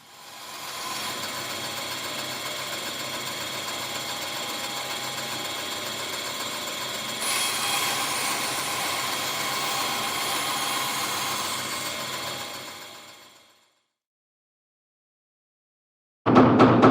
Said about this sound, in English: I'm going to be able to put it on the saw and rip it down